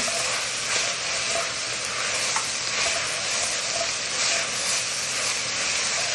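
Half a tablespoon of ginger and garlic is stirred in a hot pan, giving a steady close-up sizzle with soft scraping from the stirring throughout, and no one speaking.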